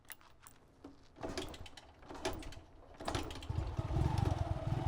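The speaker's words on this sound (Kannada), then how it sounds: "ಈ ಥರ ಕಿಕ್ ಹೊಡೆದು ಬೈಕ್ ಸ್ಟಾರ್ಟ್ ಮಾಡಿ ಓಡಿಸ್ತೀವಿ ನೋಡಿ" A Yamaha Crux motorcycle is kick-started with a few sharp clunks, and its engine then catches and settles into a steady, rising idle close by.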